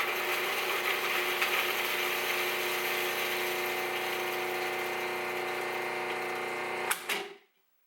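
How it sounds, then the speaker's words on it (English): A Cuisinart 14-cup food processor minces peeled garlic cloves with its steel chopping blade, a loud, steady motor whir that holds for about seven seconds, then spins down and stops, with no talk. "I like to process the garlic first in any recipe so it'll be finely minced."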